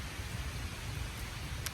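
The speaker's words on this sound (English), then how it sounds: "am outside in the rain" Outdoor rain falls as a faint, even wash of hiss with a low rumble underneath and one or two brief sharper ticks.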